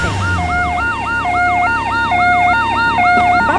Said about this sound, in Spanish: Por ahí viene la ambulancia.